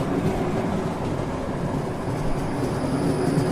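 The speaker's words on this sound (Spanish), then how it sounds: "El sonido del tranvía, que conecta un barrio humilde con el resto de la ciudad" A tram rolls past along a boulevard in Alicante, a steady rumbling rail drone with faint high squeal, fairly close and continuous with no talking.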